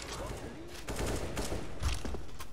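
Counter-Strike gunfire crackles in quick bursts at moderate distance beneath an ongoing game mix, with sharp reports spread through the clip.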